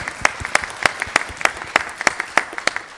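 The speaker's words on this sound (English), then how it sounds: "we can have a huge round of applause for them as well" A few people clap in a sparse, slightly uneven rhythm at a hackathon event, sharp individual claps sounding close and distinct rather than a full crowd.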